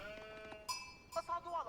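Sheep bleat in the video game Age of Empires 4, a few overlapping wavering calls at moderate volume, with faint talk underneath.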